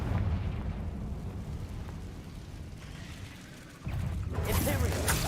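Confringo fire spell cast in Hogwarts Legacy, a loud rumbling fiery blast that surges, dips, then bursts again near the end with crackling, roaring noise.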